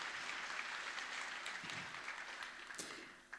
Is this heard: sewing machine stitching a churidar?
no